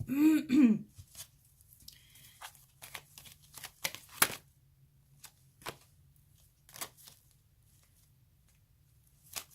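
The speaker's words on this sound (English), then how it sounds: "We're just going to keep shuffling." Tarot cards shuffled by hand during a love reading, giving soft, intermittent riffling and sliding bursts that come and go near the microphone after a short vocal sound at the start.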